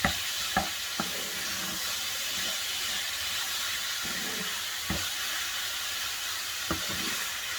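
Spicy chicken filling with spinach sizzles steadily in a pan over medium heat, a constant bright hiss broken by a few sharp clicks and taps of stirring, with no voices.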